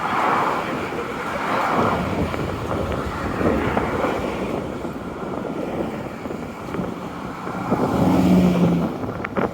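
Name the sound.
car traffic on bridge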